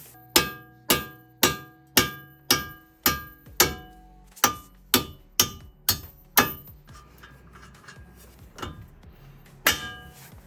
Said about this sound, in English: then use a mallet to tap them out